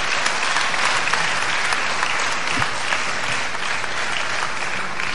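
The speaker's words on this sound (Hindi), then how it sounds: "आप इन सब के लिए बहुत सारी तालियां बजा दें फुल एंड फाइनल" Loud, sustained audience applause for contestants before a trophy is handed out at a hip hop competition, a thick unbroken wall of clapping that stays level from start to finish.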